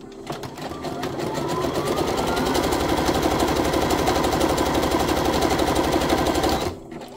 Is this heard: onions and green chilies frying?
no